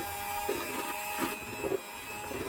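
An electric beater whips butter and powdered sugar for butter cookies, giving a steady high-pitched motor whine with a faint rhythmic thumping as the beaters work through the mixture.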